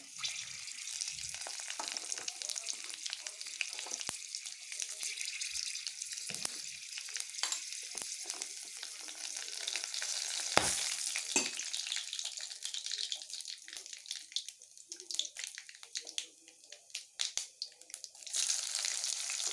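Dried and fresh chilies, panch phoron and cumin frying in hot oil give a continuous crackling sizzle with occasional pops and stirring clatter, fairly quiet throughout.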